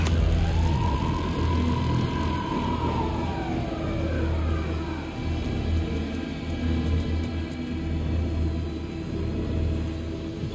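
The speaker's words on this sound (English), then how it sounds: "The police car felt important to the story." A police car siren in the video game Alan Wake II wails in one rising and falling sweep over a low, steady rumble, then fades into the continuing ambient drone.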